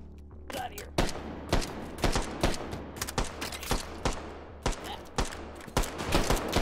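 Friendly gunfire in the VR shooter H3VR: a rapid run of close, sharp shots in uneven bursts over a low background hum, with some talk mixed in.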